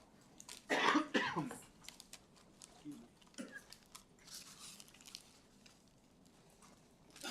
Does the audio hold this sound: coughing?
yes